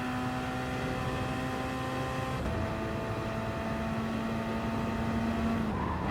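Gr.3 race cars speeding along the straight at Monza in a racing video game, with a steady, loud engine drone and shifting pitch as cars run together in a slipstream, no talking.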